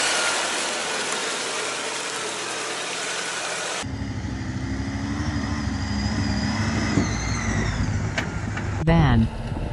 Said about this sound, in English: SUV, sport utility vehicle. Off-road vehicle.